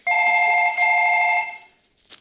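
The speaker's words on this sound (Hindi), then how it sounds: "मैम मेरे फोन आए हैं" A telephone rings with a bright electronic double tone, a long burst, a brief break, then a second burst before it cuts off, loud and close in an indoor setting.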